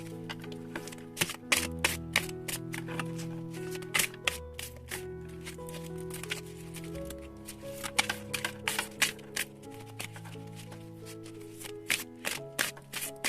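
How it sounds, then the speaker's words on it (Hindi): A deck of oracle cards is shuffled in rapid, repeated crisp riffles and taps, close up, over soft sustained background music with no talking. "अब देखते हैं ओरेकल में से कार्ड क्या कहते हैं।"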